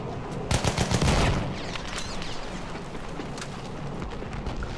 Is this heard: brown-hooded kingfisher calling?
no